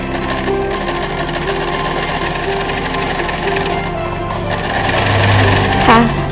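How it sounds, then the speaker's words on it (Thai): A sewing machine joins two pieces of 100% cotton fabric with a seam about 1 cm in, running loud and close as a continuous rapid mechanical whir that swells slightly near the end. "เรานำผ้าสองชิ้นมาต่อกันก่อนค่ะ เย็บเข้ามาประมาณ1เซนนะคะ"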